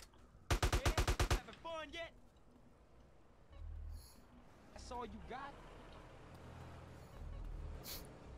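A rapid burst of about eight gunshots from Grand Theft Auto: San Andreas rings out early and sharp, followed by game voices and lower rumbling engine noise.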